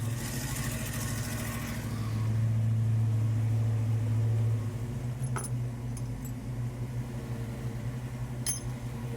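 A car engine idles steadily after new distributor and throttle body work, a low droning hum with a brief rise in pitch and loudness early on, plus a few faint clicks and ticks near the end.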